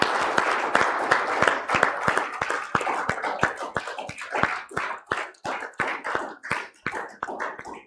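A congregation claps along in steady rhythmic applause during a church service honoring Jesus, with sharp, evenly spaced hand claps that start dense and loud and thin slightly toward the end, with no talking.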